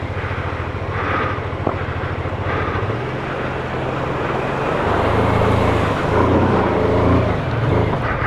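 A BMW F450GS motorcycle engine drones loudly and close as it climbs a steep trials track, its pitch shifting and surging under hard revs as the rider strains for grip.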